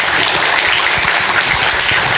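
A lecture hall audience applauds loudly and steadily after a keynote speech at a 2019 university innovation forum, a dense patter of many hands clapping with no voices over it.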